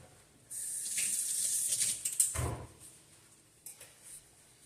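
Water briefly splashes over a refractometer to rinse off navel orange juice, a burst of about two seconds, then a few small knocks and a short second trickle.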